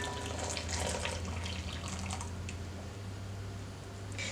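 Liquid jelly mixture pours into a bowl, a steady close-up stream with light splashing that stays even for several seconds, with no talking.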